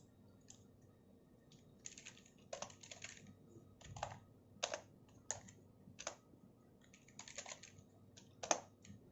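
A computer keyboard tapped while correcting text in a QBasic program, individual keystrokes and short bursts spaced irregularly, close and soft over a faint hum.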